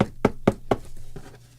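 Wet paint flicked onto a greeting card in a home craft session, four sharp knock-like splats in quick succession followed by a few fainter, softer spatters as the paint runs dry.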